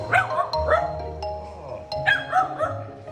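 Dogs bark and yip several times in quick bursts, close by, alongside a chiming doorbell-like ding.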